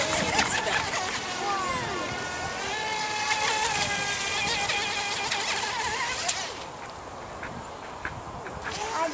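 A motorboat engine drones steadily and close throughout while the boat is driven, with voices talking over it and a quacking duck-like sound breaking through in places.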